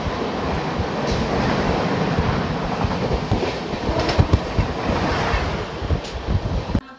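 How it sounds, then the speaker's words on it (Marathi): Mumbai–Madgaon Jan Shatabdi Express running at speed past Dadar, a steady loud rumble of wheels and carriage noise with rattling and wind, continuous throughout, without talk. "तर मित्रांनो, आता दादर रेल्वे स्टेशनवरून गाडी डिपार्चर होत आहे."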